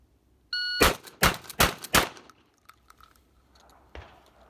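A pump-action shotgun fires four quick, loud shots in close succession, preceded by the shrill beep of a shot timer, with faint clatter after.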